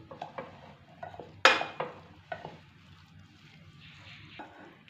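Metal spoon scrapes and clanks in a pan while wheat egg kothu parotta is mixed with mutton gravy, a few sharp knocks among soft stirring and faint sizzle, close and fairly quiet.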